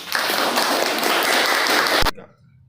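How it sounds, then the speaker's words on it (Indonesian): A classroom group claps for a presenting group during a teacher training practice session, a steady burst of close hand claps that ends abruptly with a final thump. "Kasih tepuk tangan untuk kelompok 4"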